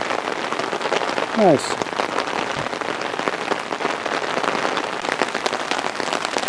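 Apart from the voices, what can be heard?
rain falling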